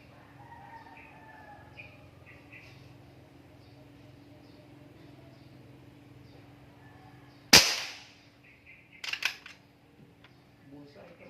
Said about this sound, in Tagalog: Two shots. Walang silencer to.